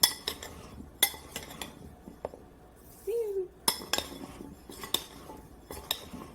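Blueberries tossed with a dusting of cornstarch in a bowl give soft, scattered clinks and scrapes against the bowl, with a few sharper taps of a utensil between quieter rustling.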